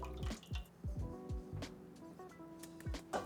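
Liquid drips from squeezed cooked food onto a surface, several close, separate drips and little splats in an irregular patter, with no talking.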